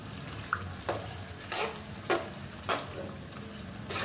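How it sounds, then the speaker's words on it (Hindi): Black split urad dal roasts in a pan over a normal flame with a constant dry sizzle and regular scraping stirs of a spatula every half second or so; no voices. "दाल को अच्छी तरह से हम भून लेंगे 4 से 5 मिनट"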